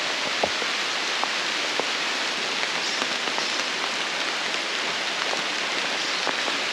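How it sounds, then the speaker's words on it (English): Steady rain falls in a forest near the Arenal Volcano in La Fortuna, Costa Rica, a dense, even hiss with scattered nearby drips and taps, continuous throughout and with no one speaking. "The rain has started."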